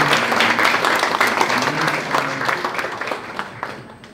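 Audience applause at the close of a lecture in an indoor hall, a dense, steady wash of clapping that holds at full strength for about four seconds before starting to thin out at the end.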